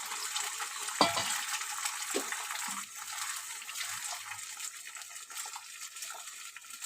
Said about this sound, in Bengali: ডিমটা আমি ঠিক এইভাবে ঝুরি ভাজার মতো করে নিলাম।